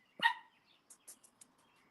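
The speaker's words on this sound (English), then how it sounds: "What are you barking about" A single sharp dog bark up close, followed by a few faint, scattered ticks and clicks in an otherwise quiet space.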